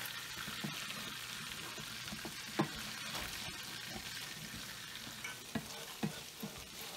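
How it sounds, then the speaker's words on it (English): Granular sugar is stirred around a hot pan: a faint, steady sizzle broken by scattered scraping and clicking strokes of the spoon, a few louder near the end. "what I'll do is just stir this around"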